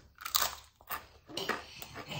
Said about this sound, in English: I'm hoping you guys can hear that crunch.